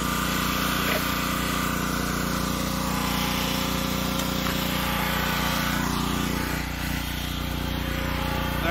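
A powered surface scrubber fitted with a hard-bristle brush works over a moldy concrete patio, producing a loud, unbroken motor drone with a grinding, scrubbing texture that stays steady from start to finish.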